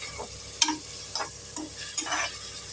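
Ground masala for Tamil Nadu mutton biryani sautés in a pan, a soft sizzle broken by a few brisk scraping stirs of a spoon, close up.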